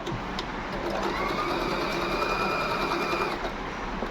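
A sewing machine stitches steadily at close range, its continuous whirring and rapid needle rhythm running throughout without a break.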